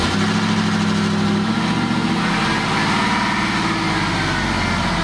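A swapped-in LS V8 rumbles steadily in a Toyota truck, a continuous loud low engine drone with a slightly shifting pitch and no pauses.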